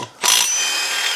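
A power tool whirs up and runs steadily as it loosens a fastener under a raised vehicle, a loud, bright buzzing burst that starts abruptly after a brief pause and holds for about a second.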